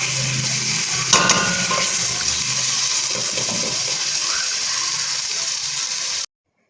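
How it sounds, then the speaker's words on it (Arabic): Onion sizzles steadily as it sautés in a pan, with a constant hiss and a brief clatter of stirring before the sound cuts off abruptly. "هكا كنشحر البصله ديالي"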